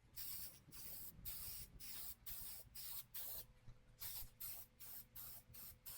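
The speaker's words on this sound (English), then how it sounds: "I'm going to spray paint with enamel spray paint the circle" Enamel spray paint hisses from an aerosol can in a string of short spray bursts with brief pauses between, close up and fairly quiet.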